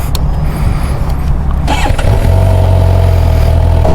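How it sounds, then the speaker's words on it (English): A brand new 2024 Suzuki GSX-R750 motorcycle engine idles loudly up close, then a sharp rev and a steady, stronger running drone follow as the rider pulls away for the first time. "Suzuki GSX-750. I'm about to take off for the first time."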